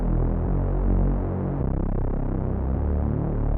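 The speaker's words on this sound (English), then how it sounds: "I'm also adding this Reese bass over here," Reese bass synth patch from the Silent 1 presets, a deep detuned throbbing drone holding low sustained notes with slow wobbling movement, steady and moderately loud with no other sounds.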